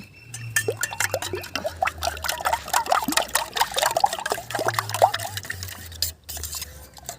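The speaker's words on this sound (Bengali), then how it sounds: "দিয়ে দিচ্ছি কড়ার মধ্যে তেল" Oil poured into a wok before beaten eggs go in, close trickling and splashing with clinks from the pan, over a low background hum, no voices.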